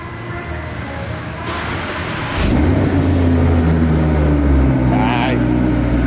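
Audi R8 engine being started and left idling cold in neutral, a deep rumble that swells up loudly partway through and then holds steady, with people talking over it.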